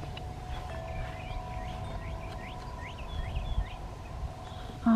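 Outdoors, a flock of geese gives a quick run of short, faint calls somewhere in the distance over a steady background hum.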